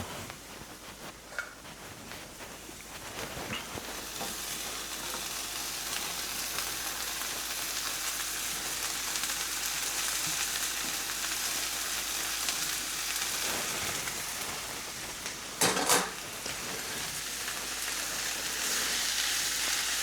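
Thawed corn frying in a hot pan for Mexican street corn, a steady close sizzle with crackling that lasts throughout, broken by an occasional stir or scrape.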